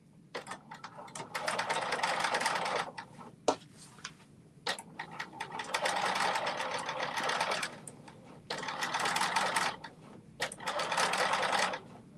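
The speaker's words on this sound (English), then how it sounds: "So we're doing our gathering stitch on the left side of the shirt." A sewing machine runs a long gathering stitch at length 5.0 along the left side of a shirt, in several steady bursts of rapid whirring with short pauses between, loud and close.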